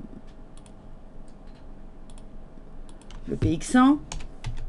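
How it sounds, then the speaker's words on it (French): Light clicks from a computer keyboard as a stock name is typed, scattered and soft, while someone speaks French over the latter part. "Je vais taper par exemple Atos."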